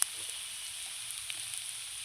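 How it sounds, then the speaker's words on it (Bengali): Onions fry in a pan with salt and turmeric added, a faint, steady sizzle crackling softly throughout with no voices over it. "এই যে হলুদ দিয়ে দিলাম, লবণ দিয়ে দিলাম, আবারও খুব সুন্দর করে ভেজে নিচ্ছি লবণ হলুদ দিয়ে"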